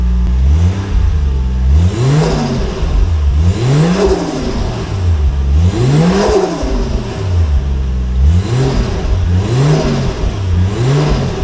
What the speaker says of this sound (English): Let's see if she has any leaks while revving.